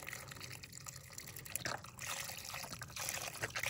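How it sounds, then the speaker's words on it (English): Beef stock slowly poured into a pot of meat at a camp stove inside a tent, a quiet trickling, dribbling liquid stream that swells in brief bursts. "you're gonna start slowly adding this beef stock"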